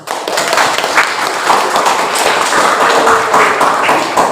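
A classroom of students applauds, a dense burst of clapping that swells and continues steadily, with a few sharper claps standing out and faint voices mixed in.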